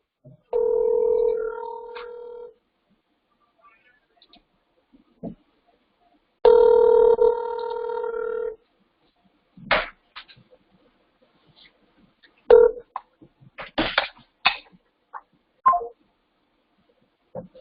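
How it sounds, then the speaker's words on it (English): A phone call placed over a speaker line: two long ringback tones separated by silence, then brief clicks and dialing tones, heard clearly in an otherwise quiet room. "So I'm dialing the number right now."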